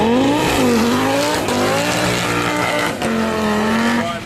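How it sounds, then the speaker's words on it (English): A short-wheelbase Audi Quattro rally car with a roughly 500-horsepower turbocharged five-cylinder engine launches at the Cholmondeley Pageant of Power 2014, engine revving hard and rising in pitch as all four wheels spin and squeal, loud and close. "5-cylinder turbocharged engine producing 500 or so horsepower, terrific wheel spin of all 4 wheels"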